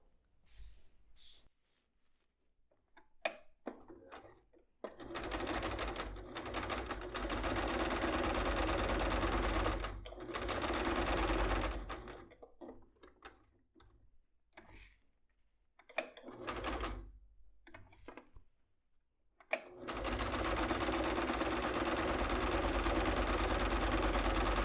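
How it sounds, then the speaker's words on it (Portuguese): A sewing machine runs in bursts while stitching a seam along a marked line on a zipper bag, a steady loud whirring hum that starts and stops several times with short pauses between runs. "a gente vai passar uma costura em cima dessa risca aqui"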